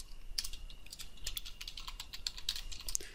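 Someone types on a computer keyboard at close range, producing quick, irregular bursts of key clicks with brief pauses between them.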